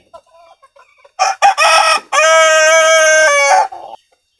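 Desi chickens on a farm cluck in short bursts, then a rooster crows loudly and close by in one long, sustained call.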